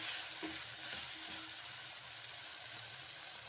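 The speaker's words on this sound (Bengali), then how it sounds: "প্রথমে নেড়ে চেড়ে ভেজে নিচ্ছি এইভাবে।" Carrots, beans and peas stir-fried with turmeric in a pan, giving a soft, even sizzle with light stirring, quiet and close with no talk.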